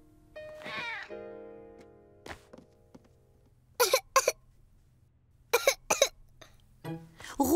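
Caillou, a cartoon child sick with flu, coughs in several harsh bursts, some short and some in quick clusters, after an earlier wavering, whiny tonal cry, all fairly close against a quiet background.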